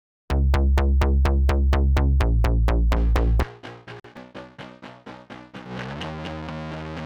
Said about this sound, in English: So we're pulling in this just kind of like plucky low bass.